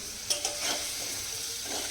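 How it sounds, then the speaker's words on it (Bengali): Broad beans frying in a pan, with a steady close sizzle and scraping stirs from a utensil throughout, no voices. "এবার সিমটা ভেজে নিই"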